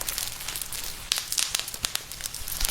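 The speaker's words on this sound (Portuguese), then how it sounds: "Pra fazer o som das fogueiras em Roblox, não gravaram fogo real. Só apertaram plástico bolha e o som ficou perfeito." Campfire crackle for a Roblox game, made by squeezing plastic bubble wrap: irregular sharp pops and crinkles over a soft hiss, getting denser and louder in the second half, with no talk.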